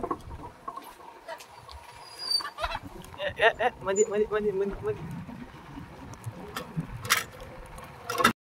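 Chickens cluck and squawk in short bursts nearby, mixed with background talk and outdoor noise.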